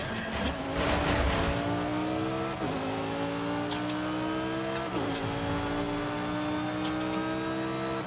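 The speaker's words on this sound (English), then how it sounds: "That car sounds amazing." A race car engine in the Forza Horizon 5 racing game revs hard, climbing in pitch and dropping sharply at two gear shifts, loud and continuous with no talking.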